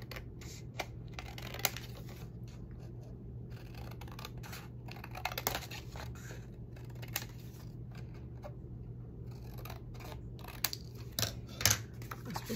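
Paper being cut with scissors to make small journal pockets, a quiet run of soft snips and rustles with occasional sharper clicks and a brief louder crinkle near the end, heard alone.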